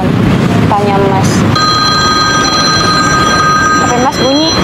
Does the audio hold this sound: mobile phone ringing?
yes